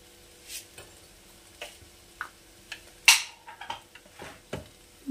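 Mixed fried rice being stirred in a pan, a spatula scraping and clinking against the metal in scattered, uneven strokes, close and fairly quiet with faint sizzling in between.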